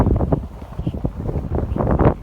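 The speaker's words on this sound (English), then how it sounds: "It's kind of windy, chilly." Steady gusting wind buffets the microphone on a boat deck in a low, rumbling roar, with faint rustling texture and no voices.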